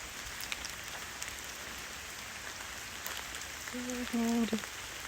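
Rain falls steadily on a campsite in the woods, a soft even patter, with a brief tonal hum near the end.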